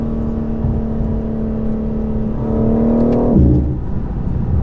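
A 2020 BMW M4 Competition accelerates hard from the driver's seat, a steady engine drone climbing in pitch, swelling louder, then dropping sharply as a gear changes near the end.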